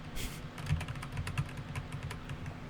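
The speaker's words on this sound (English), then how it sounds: "Sorry if you can hear my keyboard if it's really loud." Computer keyboard keys clatter in quick, uneven bursts of close tapping during a Roblox shooter game, with a low steady background hum.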